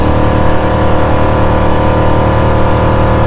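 A Chaparral 256 boat engine runs hard under acceleration on open water, a loud, steady, high-revving drone that holds constant with no talk audible.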